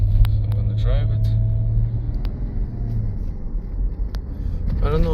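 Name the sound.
2010 Lexus RX 450h hybrid SUV being driven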